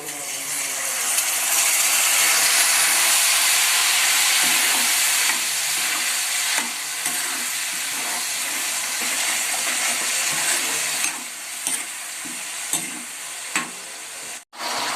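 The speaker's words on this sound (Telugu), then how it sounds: "ఇవైతే బాగా ఫ్రై అయినాయి కదా ఫ్రెండ్స్" Pulihora tempering fries loudly in a pan, a dense steady sizzle with bursts of crackle and spatter, easing slightly toward the end, with no talk over it.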